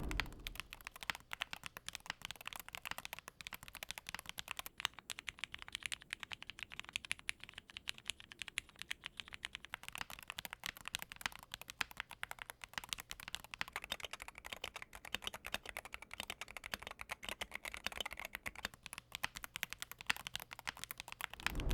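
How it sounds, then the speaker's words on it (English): Fast, continuous typing on a TKD Cycle8 mechanical keyboard with a Rakka Hall effect switch kit, with dense rapid keystrokes that have a muted, woody clack, close up and steady. "Hall effect switches have this woody sound that is very particular."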